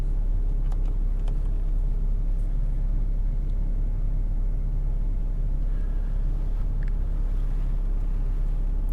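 A 2014 Porsche Cayenne Diesel Platinum Edition idles steadily after starting, a low, even engine rumble heard from inside or near the car with no talk over it.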